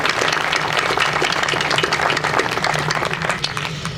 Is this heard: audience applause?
yes